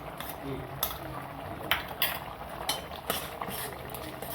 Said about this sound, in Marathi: आता आपण साय चांगले फेटून घेऊ अशी।